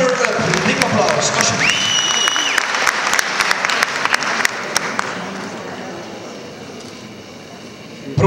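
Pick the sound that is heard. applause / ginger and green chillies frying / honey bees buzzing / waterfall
applause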